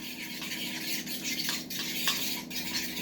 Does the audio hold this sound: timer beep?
no